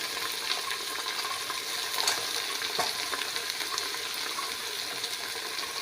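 Soaked chickpeas tumble into hot masala in a pan for a mixed dal and vegetable dish, setting off a steady, close sizzle and crackle with a brief stirring scrape; no one speaks.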